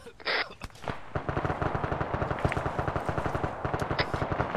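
Sustained automatic gunfire from ArmA 3 combat, a rapid regular train of loud shots with a few sharper bursts at the start, running for several seconds with no talk.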